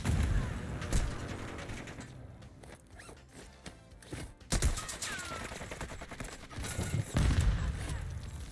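Submachine gun fire in Warzone 2, with short sharp bursts scattered across a busy firefight and quieter gaps between them, and some speech mixed in.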